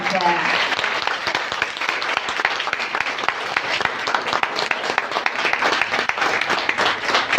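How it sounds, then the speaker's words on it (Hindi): An audience at a women's empowerment project closing ceremony gives hearty, sustained applause, many sharp hand claps in a dense, lively stream, with a voice speaking briefly at the start. "मोन क्रिएशन के लिए एक दफा खुल के तालियां।"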